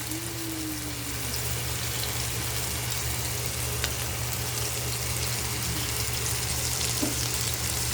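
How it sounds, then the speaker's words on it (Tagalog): Potatoes with rosemary frying in a pan while being stirred, a steady close sizzle with faint scraping throughout and no talking. "Lulutuin lang natin ang potato sa ganito na halo lang ng halo hanggang sa siya ay maluto"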